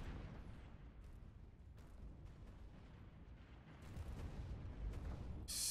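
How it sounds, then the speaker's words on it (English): Giga Cannon shots in the Stellaris space strategy game, heard as a dense, continuous rumble of heavy explosive blasts, with sharper bursts breaking through and swelling louder near the end. "Giga Cannon shots."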